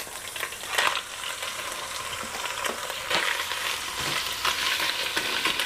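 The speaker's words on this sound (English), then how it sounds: "Let this oil come back up to heat. Popping and cracking. Then we'll put the rest of the beef in." Chunks of beef fry in re-heated hot oil for a Tex-Mex chili with chorizo, giving a steady close sizzle broken by sharp pops and crackles, with no voices over it.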